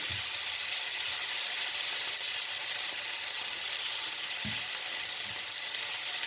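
Tomatoes frying in a pan give a steady, close hiss of sizzling oil that holds evenly throughout, with a few soft low knocks from the pan and no talking.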